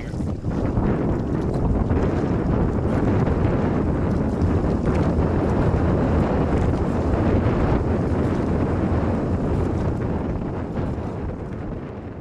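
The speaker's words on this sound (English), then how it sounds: "As you can see, we're now coming into some wind here." Strong wind blows across open water on an Adirondack pond loop, producing a continuous loud, rumbling roar and buffeting against the microphone throughout, with no voices.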